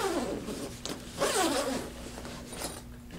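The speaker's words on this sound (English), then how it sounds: "There are usually two zippers on the cello case." Zippers on a soft cello case are pulled open in a few quick rasping strokes, close and clear against a low steady hum, with no one talking.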